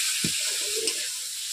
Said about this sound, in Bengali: আমি মশলা আলু দুটোই একসঙ্গে কষিয়ে নিচ্ছি ভালো করে